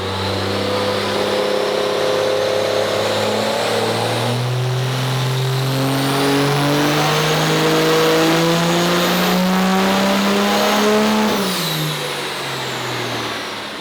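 A 2011 diesel truck runs on a dyno, its engine pulling steadily up through the revs for about ten seconds before it lets off sharply, loud and continuous with no talk over it.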